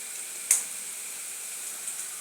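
Bread roast with egg fries in a pan with a steady, even sizzling hiss, and a single spatula clink sounds near the start while it is stirred.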